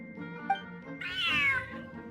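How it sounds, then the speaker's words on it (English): Cat meowing in the Genshin Impact video game, a single drawn-out, rising and falling meow that is clear and close over a soft musical background. "Smart cat."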